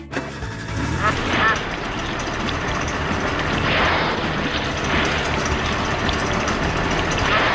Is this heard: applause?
no